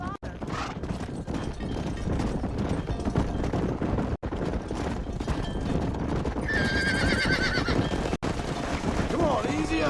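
A horse in the video game Red Dead Redemption gallops with rapid, steady hoofbeats and lets out a loud neigh, while voices talk over the hooves.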